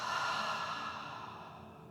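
A slow, deep exhale during a guided breathing exercise, a soft airy breath that fades gradually over a couple of seconds, close and quiet with no talking.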